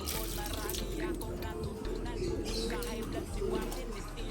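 Pigeons coo softly in a loft over a steady background hum, with faint watery splashing, and no one speaks over them.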